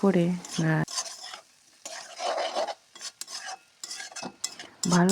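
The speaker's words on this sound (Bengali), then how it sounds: "করে নাড়াতে হবে, না হলে কড়াইতে লেগে যাবে" A spatula scrapes and stirs ridge gourd and potato in a wok, producing rhythmic scraping bursts with a light sizzle, and a voice is heard briefly at the start and end.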